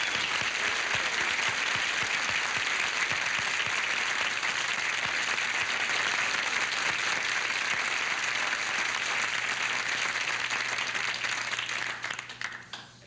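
A studio audience at a 1980 television talk show breaks into sustained, dense applause that stays loud and even for about twelve seconds before tapering off at the end.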